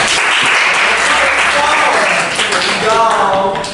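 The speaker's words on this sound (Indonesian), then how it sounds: "Tepuk tangan buat kita semua." Pupils in an Indonesian classroom break into loud, dense applause that fills the room, with children's voices calling out over the clapping.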